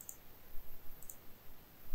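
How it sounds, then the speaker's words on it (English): A computer mouse clicks during CAD modelling work on a computer. Two sharp, quiet clicks land about a second apart over a faint background hiss in an otherwise silent room. "double clicking there"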